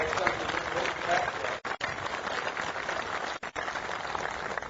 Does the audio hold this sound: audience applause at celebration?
yes